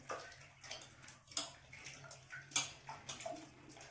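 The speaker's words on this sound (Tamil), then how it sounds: "இப்போ நம்ம கடைக்கு தேவையான புளி கரைசல் நம்ம ஊற்றுறோம்" Tamarind water for pani puri rasam is poured into a large vessel, giving a quiet, uneven splashing and gurgling with a few louder slaps of liquid.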